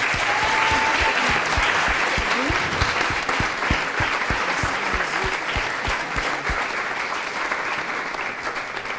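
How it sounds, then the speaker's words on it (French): An audience at the final of an eloquence competition in Le Mans applauds warmly, a dense, steady wash of clapping with some louder individual claps near the front, fading slightly toward the end. "un grand applaudissement pour eux."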